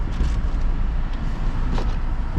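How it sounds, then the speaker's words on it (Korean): An Audi Q5 45 TFSI is driven at low speed toward an underground parking garage, its engine and road noise a steady, close, even rumble with no talk. "차량 보관소로 차량 이동합니다."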